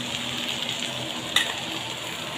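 Tomatoes go into a frying pan of okra, bringing a constant hiss of sizzling oil with one quick metallic clink of a spoon against the pan midway.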